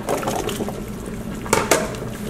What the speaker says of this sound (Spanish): Es tiempo de agregar la zanahoria